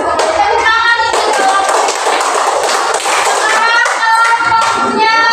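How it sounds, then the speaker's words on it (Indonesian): A school class gives a group of students a round of applause, steady dense clapping from many hands filling the room throughout, with a teacher's voice faintly under it. "Tepuk tangan untuk"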